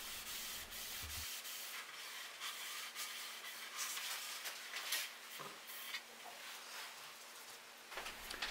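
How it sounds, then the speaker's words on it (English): A cloth rubs excess finish off a sanded white oak board for a Mission-style bookcase, a steady close-up swishing and scrubbing that runs nearly unbroken, with no talking. "apply a moderate to light coat, then wipe off the excess and let it dry"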